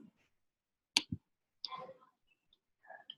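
Two quick, faint computer mouse clicks come in close succession in a quiet room, followed by soft speech.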